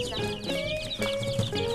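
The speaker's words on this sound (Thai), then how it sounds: "วันนี้ก็มาจับลูกไก่" A busy mix of high, rapid chick peeps and low clucking from chickens, continuous and close, with no clear talking.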